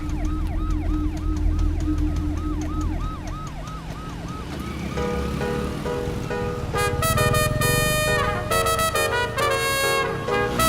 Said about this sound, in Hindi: एम्बुलेंस को रास्ता दे, इतनी भी अक्ल नहीं है।